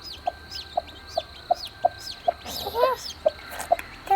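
Steady, evenly spaced clucks from a black hen repeat about twice a second, with a brief flurry of higher squawks midway and faint chirping birds in the background.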